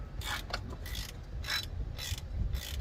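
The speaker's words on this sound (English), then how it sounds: "we are gonna go ahead and tighten these down with this 6mm Allen socket here" A ratchet drives a 6mm Allen socket to tighten pulley bolts during an aftermarket pulley install on a Ram TRX, giving several quiet clicking bursts in an uneven rhythm over a low hum, close to the microphone, with no talking.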